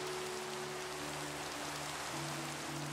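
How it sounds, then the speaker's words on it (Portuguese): Steady rain falling outdoors on surrounding ground, a continuous even hiss with no pauses, moderately loud and close, with a faint low hum underneath and no voices. "essa chuva parece que não vai passar tão rápido"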